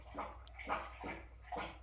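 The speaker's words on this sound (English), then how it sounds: "that's my dog having a drink." A dog laps water from a bowl in a quiet room: three or four soft, wet splashing bursts spaced in an uneven rhythm, close by and moderately quiet, with no talking.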